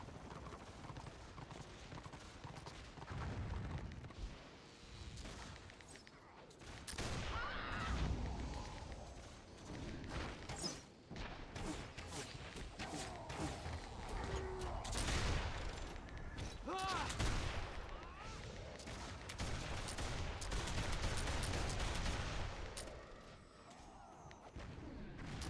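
Gunfire and explosions in the online game Warhammer Online fill a busy battle scene, loud bursts and rattling volleys running throughout with overlapping in-game noise and occasional voices.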